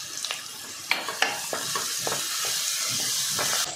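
Onion mixture sautéing with salt in a pan, a steady soft sizzle broken by a few scraping stirs of the spatula, close and without talk.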